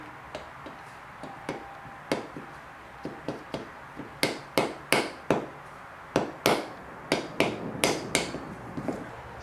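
Sharp metallic hammer taps seating a Mitsubishi Lancer front wheel bearing, about twenty strikes in irregular bursts, some light and some harder, close by with no talking.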